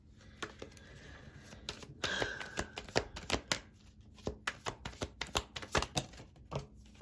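Tarot cards are shuffled by hand in a quiet room, a close run of sharp riffling snaps and soft slaps in uneven bursts with short pauses between.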